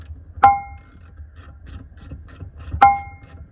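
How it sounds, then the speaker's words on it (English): A long-handled quarter-inch drive ratchet turns a fitting while a handheld 10-ton hydraulic puller is modified, giving two sharp metallic clicks about two seconds apart over quieter soft ratcheting ticks. "I've actually got quite a long handled quarter drive ratchet"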